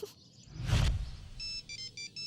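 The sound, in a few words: phone ringing, ringtone in a movie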